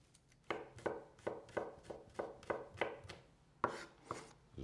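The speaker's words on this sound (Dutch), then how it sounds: "Die tenen knoflook. Mooi fijn gesneden." Garlic cloves chopped finely with a kitchen knife on a board, a steady run of about a dozen crisp, close knocks in even rhythm, with no talking.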